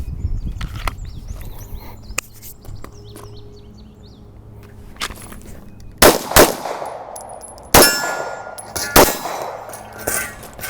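Taurus G2C pistol fired at a range: after a quiet stretch of faint clicks and handling noise, four loud, sharp gunshots ring out in quick succession near the end, each with a brief ringing tail.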